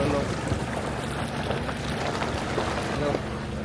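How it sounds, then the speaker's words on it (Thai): A vehicle drives through water near a Mekong riverside village in Laos, giving a loud, steady rushing wash of splashing and churning noise, mixed with wind buffeting the microphone. "นี่ดู ขับรถผ่านน้ำด้วย"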